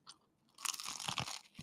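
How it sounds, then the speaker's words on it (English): Crunchy bites and chewing of a grilled cheese sandwich, a couple of close crisp crunches followed by a short burst of wet chewing, loud and near with no talking. "Time for another bit of crunchy grilled cheese sandwich."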